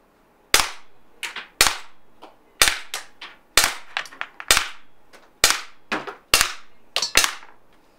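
Eight sharp, loud pops from a RAM combat pistol CO2 air gun, fired at a target 15 feet away in a steady, evenly spaced series with brief decaying echoes and no talking.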